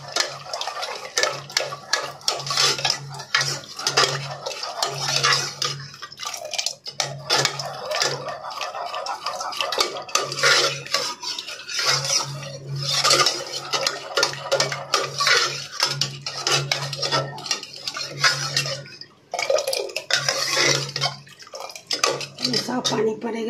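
Leftover okra fries and is stirred in a pan on a home stove, metal scraping and clinking against the pan in irregular bursts with a faint sizzle underneath, close and fairly loud throughout.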